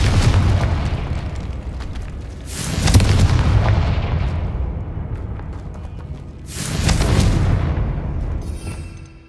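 Two heavy blasts from the Confringo spell in Hogwarts Legacy boom a few seconds apart, each a sharp burst that rolls off into a long fading rumble.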